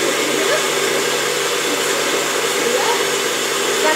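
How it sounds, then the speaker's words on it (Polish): Kitchen blender mixing water, protein powder and pudding, a steady, loud, close whirring motor hum with a dense, even texture that runs unbroken for about four seconds. "do blendera. Miksujemy."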